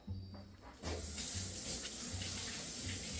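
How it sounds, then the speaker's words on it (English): Hot water gushes from a kitchen tap for handwashing while preparing raw rack of lamb, the steady hissing stream starting abruptly partway through and running on close and continuous. "Always washing your hands, especially when you're dealing with raw products. Hot water, soap."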